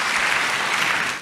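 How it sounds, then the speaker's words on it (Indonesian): Church congregation clapping loudly during a sermon, a short, steady wash of applause that holds full and close for the whole moment before trailing off at the very end. "Boleh berikan tepuk tangan yang paling meriah buat Tuhan."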